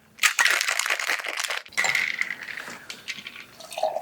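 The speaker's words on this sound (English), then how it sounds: "Quick stir." Quick stir of a nonalcoholic rum punch with grenadine, heard as bright clinking and rattling of ice against glass with a liquid swirl, close and fairly loud.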